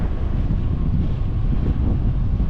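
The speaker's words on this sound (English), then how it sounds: "Holy smokes, is it windy." Strong wind buffets the microphone while cycling into a headwind, a steady, heavy roar with low rumbling gusts throughout, no voices heard.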